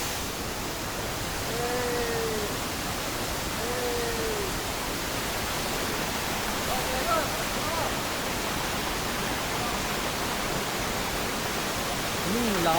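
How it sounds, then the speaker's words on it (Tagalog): A strong river current at a mountain resort in Paluan, Occidental Mindoro, a dense continuous rush of flowing water filling the scene, with a few faint bird chirps and a brief voice over it. "Lakas na nga agos ng tubig"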